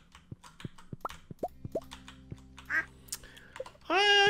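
Ducks quacking in the farming video game Stardew Valley, short nasal calls among soft plops and clicks of game sounds, ending in a louder burst of quacking.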